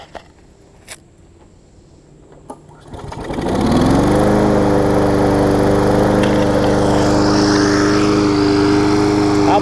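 A riding lawn mower's small engine, freshly swapped with a rebuilt carburetor, cranks and catches on the first pull, then settles into a loud, steady running drone that continues alone to the end.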